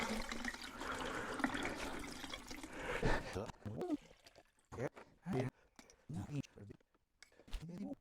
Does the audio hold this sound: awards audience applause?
no